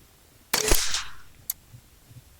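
An LCS SK-19 PCP air rifle with an FX SmoothTwist barrel fires in semi-automatic mode, giving one loud, sharp report with a short decaying tail, then a faint click about a second later.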